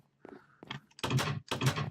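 Minecraft door sounds: a couple of soft clicks, then two loud wooden thunks in quick succession, close and clear, with no talking over them.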